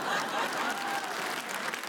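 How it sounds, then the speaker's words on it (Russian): A studio audience at a Comedy Club comedy show applauds comedian Roman Yunusov, a dense, steady wash of many hands clapping that holds loud and even throughout, with faint musical tones underneath. "Аплодисменты, Роман!"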